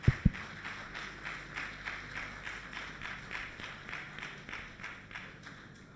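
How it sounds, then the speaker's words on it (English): Audience applause at a World Consumer Rights Day ceremony, a fairly faint, steady patter of clapping in a hall, opening with a couple of sharp close claps, then fading slightly toward the end. "Let's give her a hand of applause, please."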